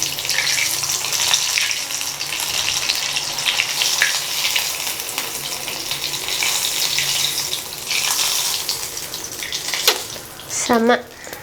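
Potato cheese balls deep frying in hot oil give a steady, dense sizzle that carries on without a break, with a short bubbling burst near the end as more batter hits the oil.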